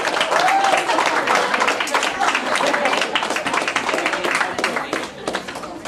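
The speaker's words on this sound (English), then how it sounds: "And you can applaud, that's okay." An audience applauds at a martial arts belt ceremony at a family martial arts center in Mount Dora. Dense, steady clapping fills the whole stretch, with a voice talking over it near the start.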